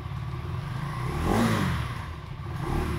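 A 2024 KTM 390 Duke engine idles with a steady low throb, then rises in a brief rev that peaks near the middle and falls back.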